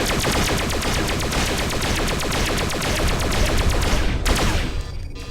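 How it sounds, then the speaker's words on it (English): Continuous rapid laser and cannon fire from space fighters attacking shuttles in the video game Freespace 2, a dense, evenly pulsing stream of shots with a sharp burst near the end. "All fighters fire on the shuttles."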